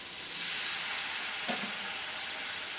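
Cashew paste added to a frying masala for Bengali-style vegetarian pea ghugni, giving a steady close hiss of sizzling with one short stirring knock, no talk.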